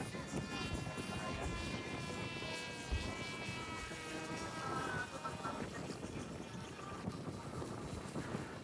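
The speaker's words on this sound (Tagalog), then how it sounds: "Lahat ng eroplano niya pasok sa hangin eh." A radio-controlled model airplane flies in strong wind at a fun-fly event, its engine a continuous whining drone that rises and falls in pitch as it passes, with wind noise and people talking in the background.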